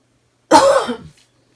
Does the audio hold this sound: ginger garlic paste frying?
no